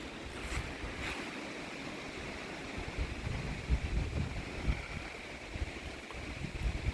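Steady wind roaring outdoors, with a broad rushing wash that could be surf or wind noise on the microphone, no voices.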